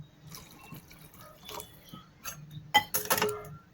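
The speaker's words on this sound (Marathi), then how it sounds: "त्याच्यामध्ये तांदूळ व्यवस्थित शिजण्यासाठी पाणी टाकायचे आहे" Water being poured into a one-pot chole rice pan, starting with scattered light drips and splashes and ending in a short, louder gush, close up with no talking.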